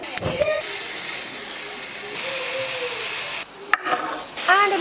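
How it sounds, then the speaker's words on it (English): Mushrooms frying in a pan, a broad hissing sizzle that swells and drops as they are stirred, with clattering of utensils and brief voices in the kitchen. "And I'm now going to start frying the mushrooms."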